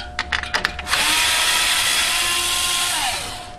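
Power drill backing screws out of a refrigerator motor bracket, a few quick trigger bursts followed by a long, steady high whine that winds down near the end, close and loud.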